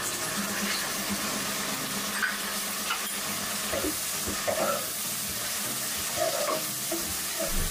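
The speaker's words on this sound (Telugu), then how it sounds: "మొత్తం కలిపి ఒక 10 minutes వరకు ఫ్రై చేస్తే సరిపోతుందండి" Tomatoes and vegetables for a South Indian veg pulav frying in a pan: a steady, fairly loud sizzle, with scattered scraping clinks from stirring now and then.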